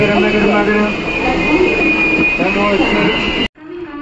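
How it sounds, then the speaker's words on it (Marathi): A Konkan Railway passenger train pulls out, heard from on board as a loud, steady rumble with a sustained tonal whine. The noise cuts off abruptly near the end and gives way to quieter background. "चला आता कोकणासाठी ट्रेन रवाना झालेली आहे"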